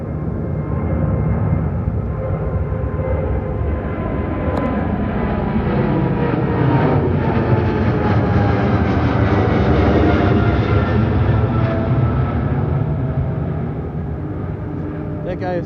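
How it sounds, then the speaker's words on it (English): Qatar Airways Boeing 777 jet flying past at Heathrow, a loud, steady broadband engine roar with a sweeping tonal whine that swells through the middle and holds, with a voice talking over it. "There goes the Qatar 777 returning home to Doha."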